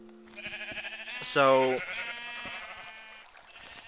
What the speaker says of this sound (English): I'll have like 5 or 6 white sheep in here